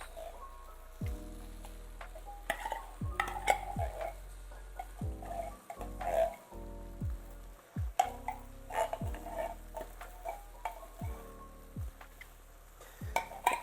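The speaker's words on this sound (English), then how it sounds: "I'm going to take some time to stir it up so far with what we have" Shrimp pasta being stirred in a pot, with repeated soft scraping and clicking strokes in an irregular rhythm over a low hum, fairly quiet, and a little background voice at times.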